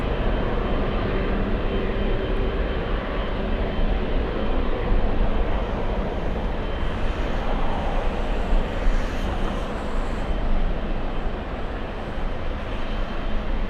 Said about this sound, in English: We have a big plane landing